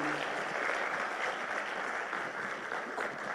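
An audience at a Tanzanian book-launch ceremony applauds its leaders. The clapping is full and sustained for several seconds and stays even throughout, with a faint voice under it at the start.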